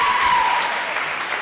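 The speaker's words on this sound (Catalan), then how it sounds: "També un fort aplaudiment per elles" Brief, dense applause for schoolgirl contestants on a Catalan quiz show, a steady wash of clapping from a studio audience.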